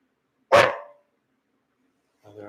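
A single dog's bark rings out sharply and close, then a short pause before a second, fainter bark begins at the end.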